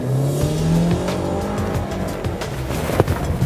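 A Range Rover Evoque on a slalom test squeals its tyres in short wavering bursts as the engine pulls and drops, close and loud, with no voices over it.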